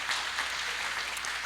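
Audience at a mushaira poetry gathering in Jeddah applauds in a brief, steady wash of clapping, even in level with no pauses.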